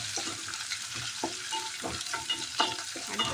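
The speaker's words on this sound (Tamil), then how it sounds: "அடுத்த சிம்லேயே வச்சுக்கிட்டே நீங்கள் வதக்கி விடுங்க" Curry leaves, stems still attached, sizzle and crackle as they are sautéed in hot oil in a pan, with repeated scraping stir strokes and short bursts of spitting across a steady frying hiss, close by with no talking.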